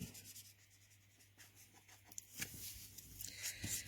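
A blender pen tip rubs and scratches across paper in short strokes, quiet and close, growing a little louder and busier toward the end.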